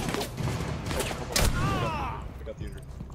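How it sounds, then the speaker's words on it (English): A shotgun fires in a first-person shooter, a few sharp blasts in busy game audio, with one heavy boom near the middle followed by a ringing tail. "Dude, I got a headshot with the shotgun."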